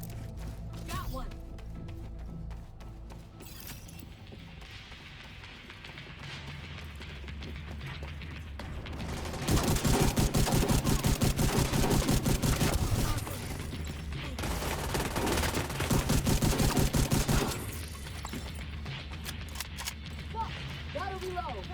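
Rapid bursts of automatic gunfire from The Division 2, with two dense, loud volleys each lasting a few seconds and quieter scattered shots and game sounds between them. A voice speaks over the shooting.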